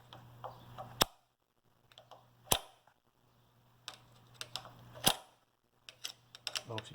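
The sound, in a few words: igniter sparking on Associated Hired Man hit-and-miss engine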